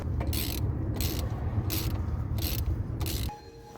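Socket wrench ratcheting on a used Volvo, heard as several evenly spaced bursts of quick clicks over a steady low mechanical rumble, close and fairly loud, stopping near the end.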